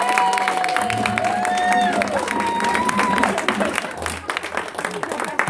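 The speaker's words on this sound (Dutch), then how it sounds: "Applaus voor Marjolijn." Applause for Marjolijn at her 60th birthday party in Maarssen, steady clapping from a room of guests lasting the whole stretch, with music playing underneath and voices chatting through it.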